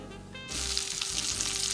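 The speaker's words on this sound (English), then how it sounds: "you probably need to fry them for about 3 minutes on each side" Thin breaded pork chops frying in a pan, a steady close sizzle starting abruptly after a brief quiet moment and continuing loudly to the end.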